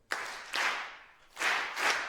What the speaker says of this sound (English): I want you to join me and clap along